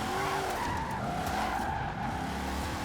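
Car drifting in Forza Horizon 4, a loud, continuous roar of engine mixed with sustained tire skidding and squeal as the slide is held.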